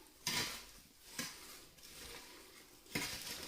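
A spoon stirring a salad of pepper, carrot and tomato with oil in a bowl, three or four soft scraping, clinking strokes spaced about a second apart, faint and close.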